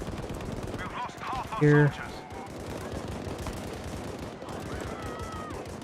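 Gunfire in the online shooter Battlefield V, a short loud burst of shots amid ongoing distant battle noise, with a player speaking briefly over it.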